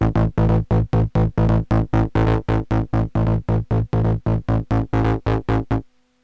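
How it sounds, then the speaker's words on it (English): A gritty synth bass from a Korg Volca, overdriven through an analog mixer, pulsing in rapid, evenly spaced staccato hits, loud and buzzing, ending with a short sustained tone. "I will create an overdrive distortion using basically a overdrive of the mixer"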